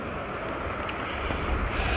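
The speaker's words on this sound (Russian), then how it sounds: "здесь очень сильный ветер сегодня" Strong wind buffets a microphone by the sea, a steady, loud broadband rush with low rumbling gusts throughout and no voices.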